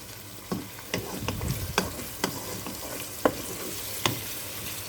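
Red peppers and carrots sauté with onions in a pan, a steady close sizzle punctuated by about eight distinct scraping and tapping strokes of a spoon, with no voices.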